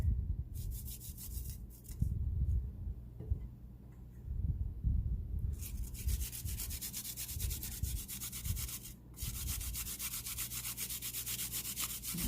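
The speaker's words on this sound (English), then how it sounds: "grate about 3 cloves of garlic" Garlic cloves rubbed against a kitchen grater while making salt and pepper wings: a steady close scraping rasp in repeated strokes, low and quiet, with no speech.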